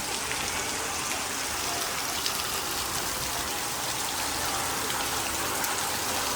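A downpour of heavy village rain keeps up an even, full wash of spattering drops nearby, constant in loudness throughout.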